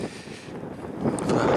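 Outdoor wind buffets the microphone in Terneuzen, a low rumbling gust that builds and grows louder toward the end.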